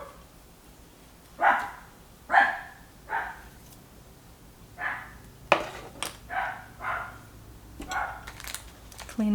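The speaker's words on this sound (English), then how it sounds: "Sorry about my dog." A dog barks indoors in a series of short, separate barks spread over several seconds, moderately loud against a quiet room background.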